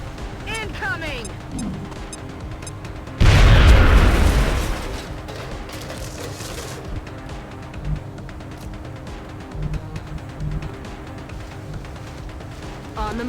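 A single loud grenade blast in the video game XCOM: Enemy Unknown, a sudden heavy boom that rumbles and fades over about a second, then quieter game sounds with a few small pops.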